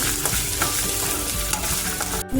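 Green chillies fry in hot oil in a pan, a dense steady sizzle with scraping stirs, close and loud, briefly cutting out near the end.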